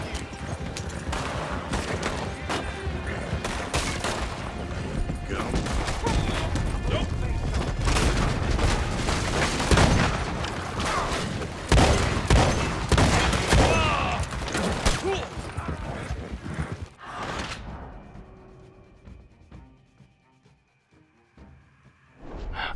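Rapid volleys of gunfire and booms from Red Dead Redemption 2 Online crackle densely for most of the stretch, with voices mixed in, before the clamor drops away to near silence.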